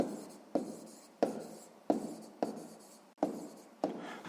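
Pen or pencil writing out a sixth-grade math solution on paper, a run of short scratchy strokes in a regular rhythm, close and quiet, with no talking.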